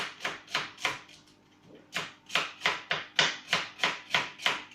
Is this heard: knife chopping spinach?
yes